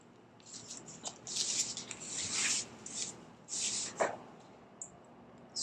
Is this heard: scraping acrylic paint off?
yes